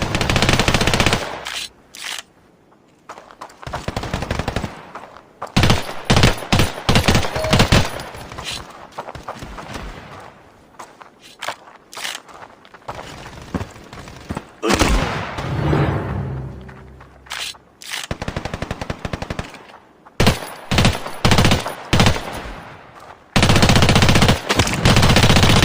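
Rapid automatic gunfire in the online FPS Standoff 2, loud bursts of machine-gun fire broken by short pauses and single shots, repeating in clusters over a game soundtrack.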